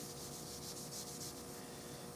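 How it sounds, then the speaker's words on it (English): Steady, close rubbing as a wooden rifle stock is buffed with pumice in quick repeated strokes, continuous and fairly quiet, with no voices. "All this pumice is doing is just taking out those little sand marks"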